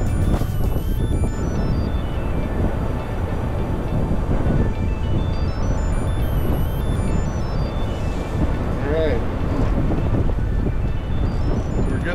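Wind gusts buffet the microphone out on a fishing jetty, a loud, steady low rumble with no speech heard.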